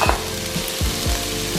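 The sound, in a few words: onions frying in pan for Thai shrimp basil fried rice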